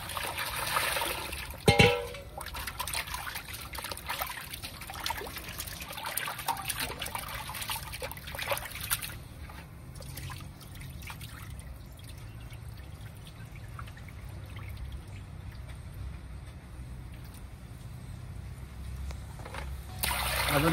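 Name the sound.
washing goat kapure in clean water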